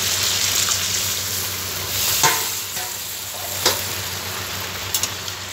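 Water splashes into a pan of fish-head and potato curry over steady frying sizzle, with a couple of short bright pours and a few clinks near the end; no talking.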